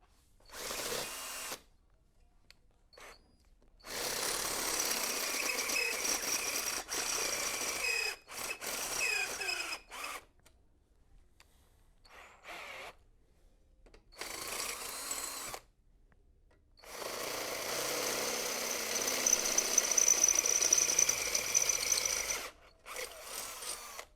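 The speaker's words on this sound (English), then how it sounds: "this hole here will need drilled out" A power drill bores out a hole in a vehicle frame during a Denver arm replacement, running in several whirring bursts of a few seconds each, separated by silent pauses, the longest burst near the end.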